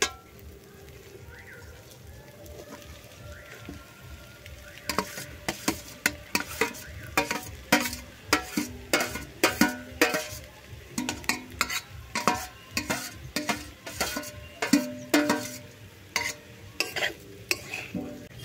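Egg scrambled into small crumbs being stir-fried with pre-fried vegetables in a pan, a steady near sizzle broken by repeated sharp scraping and clattering strokes of a spatula, growing busier and louder partway through.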